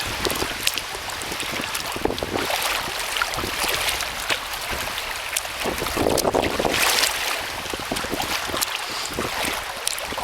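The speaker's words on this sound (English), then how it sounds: "We've got a little bit of wind behind us now, so it's a little bit smoother." Gusty wind buffets the microphone during a kayak ride on Lake Hamilton, mixed with paddle splashes and lapping water, continuous and fairly loud with no speech.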